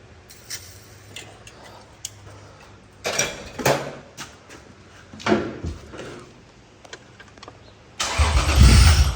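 A 2003 Lexus IS 300 engine turns over in bursts of cranking and clatter, then catches with a loud rising roar at the end, heard close up with no talking.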